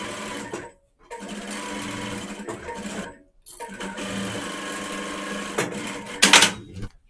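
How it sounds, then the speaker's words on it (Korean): A sewing machine stitches a reversible bucket hat in close, steady, rapid runs broken by two short pauses, ending in a brief louder clatter. "박음질을 해줍니다"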